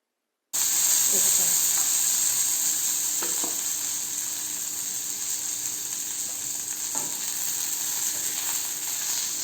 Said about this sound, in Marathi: बघा मिरच्यांचा कसा असा आवाज येत आहे